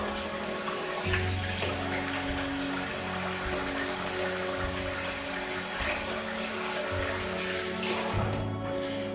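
Water splashing and running steadily as a face is rinsed after a wet shave, a continuous close trickle and splatter with irregular handfuls of water.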